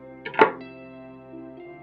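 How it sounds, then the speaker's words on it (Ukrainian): A knife cuts through the last piece of pork fat (salo) on a board in a home kitchen, giving one short, close thud-like chop amid quiet room hum. "Я дорізаю останнє сало."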